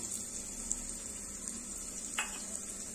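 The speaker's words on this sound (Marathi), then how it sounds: "तेल गरम झाले, यामध्ये आपण घालणार आहोत बारीक कट केलेला कांदा।" Finely chopped onion goes into hot oil in a pressure cooker, giving a soft steady sizzle with a brief clink of stirring partway through.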